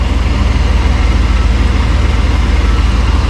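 A 1993 Chevy K3500 truck with a 454 big-block V8 idles at operating temperature, a steady, loud low rumble with an even pulsing beat and no talk over it.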